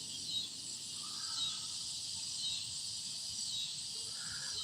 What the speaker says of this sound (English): Them there cicadas is starting to pick up a little bit more